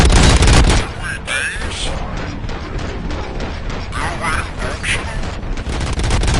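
Loud bursts of video game gunfire and booming blasts, dense and continuous, with electronic effects layered on top.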